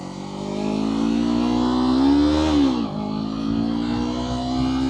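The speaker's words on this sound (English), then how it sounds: "There's a car coming." A car approaches and passes close by on a road, its engine note rising and then dropping sharply as it goes past before settling into a steady hum.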